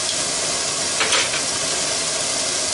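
Rehydrated mushrooms with a pinch of persillade and mustard frying in a hot pan while being stirred, a close, steady sizzle and hiss with a brief surge of scraping and spitting partway through.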